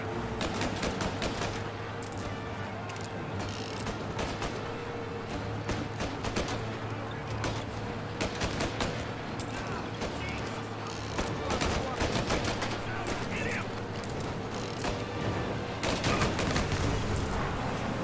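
Rapid bursts of gunfire fill a shootout in the video game Mafia: Definitive Edition, dense overlapping shots and automatic volleys crackling nonstop over a steady low hum, with scattered talk beneath.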